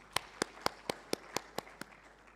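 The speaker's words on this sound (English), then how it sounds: "Members, let's give another warm hand clap for him" Eight evenly spaced single hand claps ring out, faint and alone, as a small audience responds at a national health care quality improvement conference.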